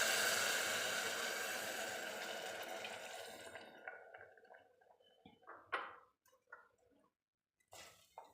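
Water poured into a pot of daliya, a loud continuous splashing gush that tapers off after a few seconds, followed by scattered faint drips and light clinks of the pot.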